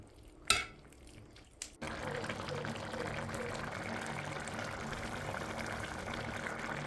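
Tripe curry bubbles steadily in a pot for a Kerala-style potty fry, a continuous broadband simmering hiss that starts after two sharp clanks and holds at an even level.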